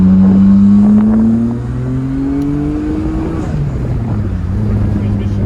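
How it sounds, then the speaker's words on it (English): Modified Mazda Miata engine accelerating, a loud close engine note rising steadily in pitch, easing briefly, then climbing again through the gears. "Now, a little acceleration."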